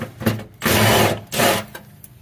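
Stubby cordless impact wrench on 10 mm bolts while a rear sway bar is installed on a Ford Explorer ST, heard as two loud close bursts of whirring and hammering, each under a second long.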